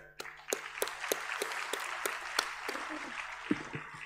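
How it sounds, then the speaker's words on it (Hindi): Audience applause at a medical conference inauguration, offered as a tribute: scattered, moderately close claps with sharp individual strikes over a steady wash of clapping, lasting throughout without talk. "जोरदार तालियां बजाए"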